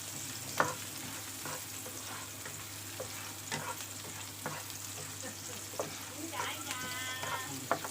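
Creamy chicken breast pieces fry in a pan while being stirred, giving a steady close sizzle broken by irregular spatula scrapes and clicks. No one speaks.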